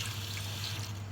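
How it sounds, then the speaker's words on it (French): Hot water pours steadily into a cooking pot for white beans in sauce with beef, a close, continuous splashing rush with a low hum underneath. "je viens ajouter un peu d'eau chaude"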